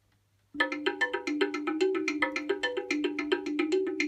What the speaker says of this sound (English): one slit drum, and it sounds something like this.